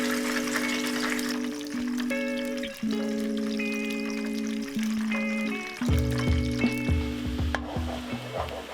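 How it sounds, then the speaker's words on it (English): Freshly fried pork pieces sit in a sieve as excess oil drains off, a continuous fizzing, trickling sizzle beneath steady background music. "I'm gonna put them in a sieve to let any extra oil drain off."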